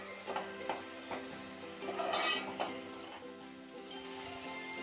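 Onion paste frying in a pan with a steady sizzle, a few soft stirring scrapes and clinks near the start, heard alone with no talking.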